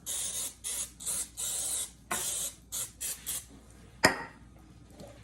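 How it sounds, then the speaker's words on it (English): Repeated short hissing bursts of cooking spray onto a square muffin pan, about a dozen quick puffs in an uneven rhythm, followed by a single sharp metallic clink. "I'm gonna spray my pan."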